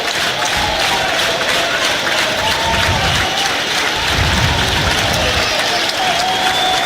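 A Razorback home crowd at an NCAA college baseball Super Regional game in Fayetteville, Arkansas, roars and claps loudly and continuously in a big stadium, with dense applause and scattered shouts and a few voices rising above the din.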